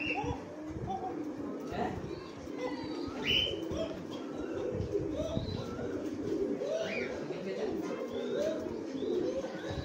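Pigeons, including Jacobins, coo on a pigeon farm in soft, repeated, overlapping calls, fairly quiet and mixed with other bird chirps and people talking nearby.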